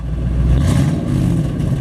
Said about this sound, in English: we got it running here so you can hear the exhaust